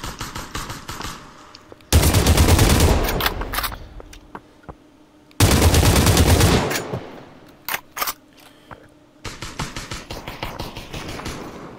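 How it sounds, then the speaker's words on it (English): Rapid bursts of automatic gunfire in the virtual reality battle game Population: One, two long loud volleys separated by quieter scattered shots and clicks, then another sustained burst at the end, with no voices. "Someone shooting at us."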